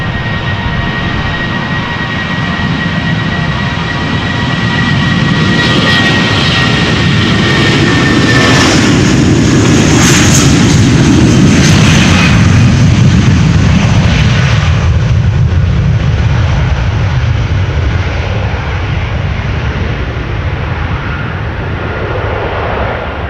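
A seven-year-old Vueling Airbus A320 jet departs Amsterdam Schiphol bound for Bilbao, its engines roaring loudly in a sustained, rising then slowly fading rumble that fills the whole stretch without voices.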